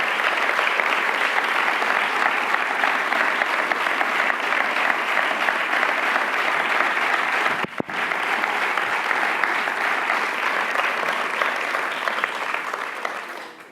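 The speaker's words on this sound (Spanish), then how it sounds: "Y a ellos yo creo que les debemos el último aplauso de la noche," Long, loud, steady audience applause at the close of an evening political conference, offered to grandfathers and grandmothers; dense clapping holds evenly for over ten seconds, briefly dips, then fades near the end.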